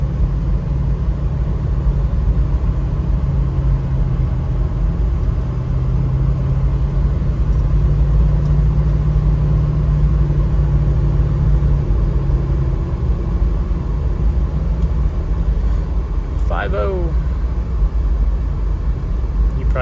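A 1991 Toyota Land Cruiser V8 cruises at around 80 on the freeway, a steady low engine drone and road rumble heard from inside the cab with no one speaking.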